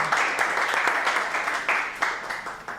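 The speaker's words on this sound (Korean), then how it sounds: "그러면은 우리 정 대표님을 박수로" Steady applause from a lecture audience fills the whole stretch, dense clapping with a few louder bursts, no voices over it.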